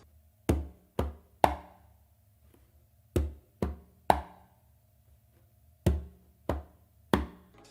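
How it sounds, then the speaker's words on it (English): A conga tumbao is played alone: three groups of three sharp hand strokes, a bass, a finger and a closed slap, each group separated by a short pause, ringing briefly in a quiet room. "So I start this tumbao actually with my non-dominant hand"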